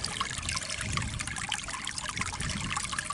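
Liquid spreader adhesive trickling and splashing as it is poured into a sprayer tank, a close, continuous dribbling pour.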